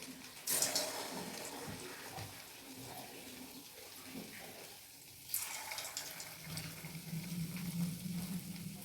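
Pantua sweets lowered into a little oil in a pan over a low flame, producing a soft continuous bubbling sizzle that swells at two points as more go in, fairly quiet and without speech.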